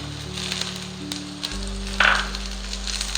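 Onion dropped into hot oil with browned ginger and garlic for a chicken masala, a steady close sizzle that flares up briefly as it goes in, with a low hum underneath.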